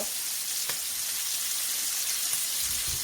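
Oxtail pieces browning in a hot pan for stew, producing a continuous, even sizzle throughout with a couple of soft knocks. No voices are heard.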